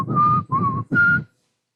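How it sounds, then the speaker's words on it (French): A person whistles three sustained clear notes, each held briefly with short gaps between, close and alone before falling silent. "Je ne sais pas très bien siffler"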